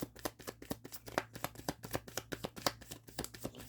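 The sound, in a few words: tarot cards being shuffled and drawn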